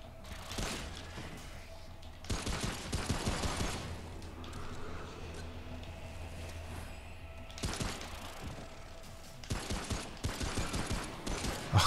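Bursts of gunfire from the video game Remnant: From the Ashes on hard mode, several rapid volleys clustered near the start and again toward the end, with quieter mechanical game sounds in between and no speech.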